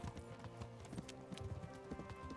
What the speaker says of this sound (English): Can your horse go any faster?